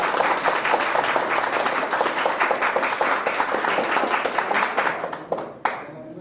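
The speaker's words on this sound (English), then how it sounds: "Guys, their claps are telling that they are not excited." Group applause for Pooja at a spoken English debate: steady, dense clapping from a small crowd filling the room, thinning and fading near the end.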